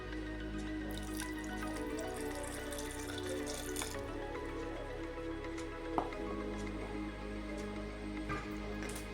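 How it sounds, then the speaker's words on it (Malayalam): Water trickles and drips steadily into a mixer grinder jar over a constant low hum, with a faint clink partway through; no voices. "കുറച്ച് വെള്ളം കൂടെ ഒഴിച്ചു കൊടുക്കണം"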